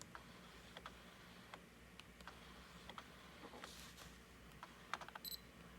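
A Nikon camera's autofocus confirmation beep sounds when the shutter is half-pressed, a faint, brief double chirp near the end among soft mechanical clicks in a quiet room.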